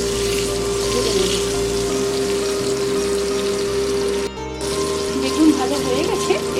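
Eggplant pieces fry in hot oil with a little turmeric, giving a continuous bright sizzle and crackle with a steady electrical hum underneath and occasional faint kitchen clatter.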